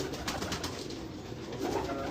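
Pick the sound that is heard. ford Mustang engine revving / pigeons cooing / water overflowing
pigeons cooing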